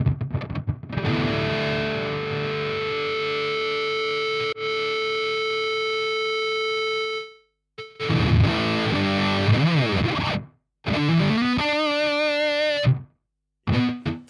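Fuzz-driven electric guitar through a Valeton GP-200LT with its noise gate, a long sustained chord ringing out, then choppy bursts of bending notes separated by abrupt gated silences.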